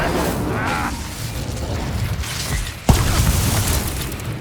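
Incendio fire spell cast during combat in the Hogwarts Legacy video game, heard as a rumbling, whooshing rush of magic with a sharp burst near the end and steady game sound throughout.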